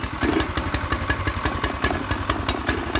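Small engine on a homemade drift trike idling with a fast, even rattling putter and metallic clatter, close and steady throughout.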